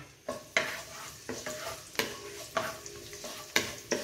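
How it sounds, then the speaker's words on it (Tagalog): Garlic dropped into a hot pan for pansit bihon, with a stirring, sizzling fry and a steady string of sharp scraping accents roughly every half second, close and fairly quiet. "ngayon ilalagay ko yung bawang"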